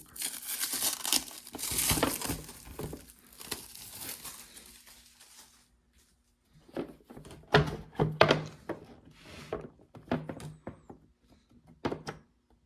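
Taped mounts being pulled off an acrylic display case, with crinkly tape tearing and rustling in several bursts, then sharper plastic clicks and knocks after a short pause, all fairly close.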